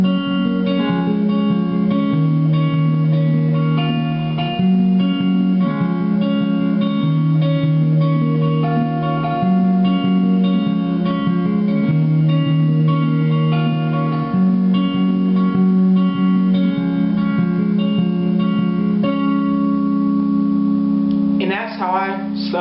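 A guitar plays a worship song riff and continues into the verse, with steady strummed chords shifting in a repeating pattern over about twenty seconds, ending with a brief pluck.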